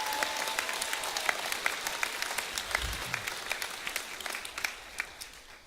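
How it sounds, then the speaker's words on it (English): Steady audience applause at a high school senior awards night honoring the boys' golf team after their 4A state championship win, dense overlapping claps sustained at moderate volume throughout. "So let's give them a round of applause."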